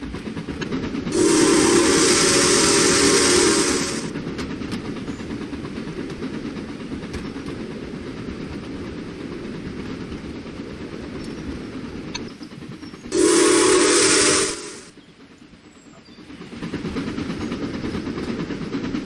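A steam train in the Trainz 2019 simulator gives two long, loud whistle blasts over a steady rumble of the engine and rolling cars, then eases toward a stop.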